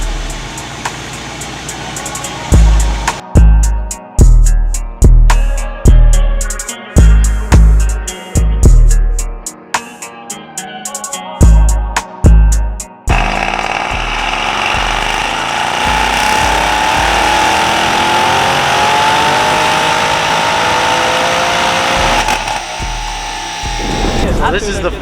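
A Mercedes-AMG E63S W213 with downpipes and an ECU tune thuds through a series of heavy rhythmic pulses on a dyno, then roars into a loud sustained full-throttle pull with rising engine pitch.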